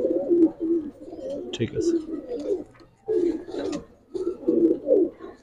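Pigeons offered for sale by a seller, including Bagha silver and Mushaldom types, coo in soft, repeated throaty phrases close by. Someone talks over and between the calls.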